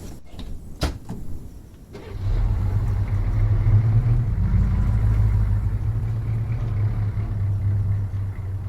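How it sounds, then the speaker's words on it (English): A Humvee in Arma 3, with a door clunk and a couple of sharp knocks, then a low engine rumble starting up and droning steadily as the vehicle drives off, close and continuous. "we're going to be ultra cool and take the Humvee"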